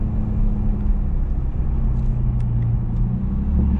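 A 2008 BMW E82 135i tuned to about 400 hp drives on the road, its engine giving a loud, steady low rumble from inside the cabin with no speech.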